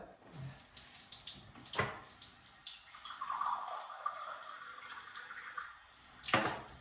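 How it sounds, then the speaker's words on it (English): A cup being filled with water from a tap while saving tomato seeds at home, a steady running stream with a few sharp clinks and knocks around it, close and moderately loud. "What we're going to do now is fill up a cup of water."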